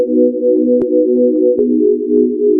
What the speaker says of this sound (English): You can do like a sine wave, and you can kind of see how it